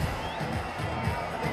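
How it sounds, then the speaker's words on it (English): A cricket crowd erupts in sustained cheering and shouting after a catch in an India A versus Pakistan A Asia Cup Rising Stars match, a dense, steady roar with no clear individual voices. "the joy, the eruption from the crowd tells you"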